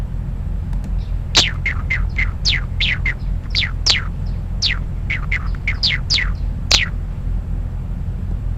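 Computer-generated bird song: a rapid series of bright, descending chirps and trills, about a dozen notes spread evenly over several seconds, clear and close above a steady low hum.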